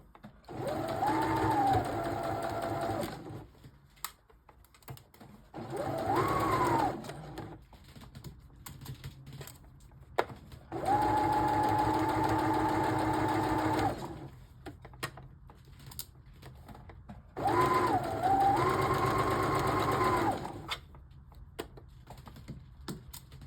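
A sewing machine stitching fabric for adaptive clothing runs in four steady whirring bursts of a few seconds each, separated by short pauses with small clicks, loud and close.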